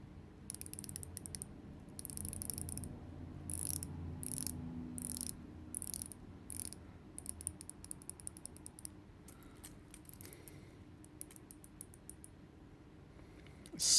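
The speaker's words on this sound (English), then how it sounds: "Let me check for you the bezel, which is 120 clicks" The 120-click unidirectional bezel of a Grand Seiko SBGX115 Diver's 200M quartz watch is turned by hand, giving fast, close, crisp ratcheting clicks in bursts and runs, with brief pauses between turns.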